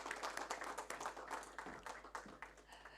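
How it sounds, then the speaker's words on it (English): At a CFO awards ceremony in India, an audience applauds as a speaker is welcomed to the stage. The crowd clapping is continuous and faint, sounding distant and steady throughout, with no voices over it. "Let's welcome him with a huge round of applause."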